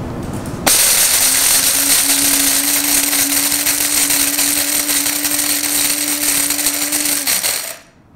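An electric dry masala and coffee grinder runs loaded with two spoonfuls, starting abruptly, then holding a loud, steady high-pitched whir for about seven seconds before winding down and stopping.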